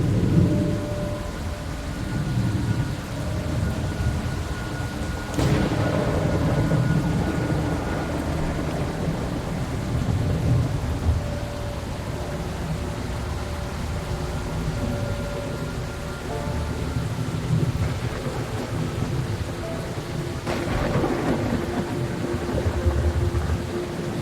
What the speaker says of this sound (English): There should be rain pouring down at this point as well. You can hear it